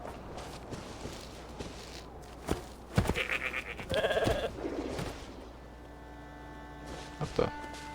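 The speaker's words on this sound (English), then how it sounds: "Hey, it's a goat." A goat in Genshin Impact lets out a short bleat, then a longer wavering one, mid-volume and close, over soft footsteps and a low ambient game bed.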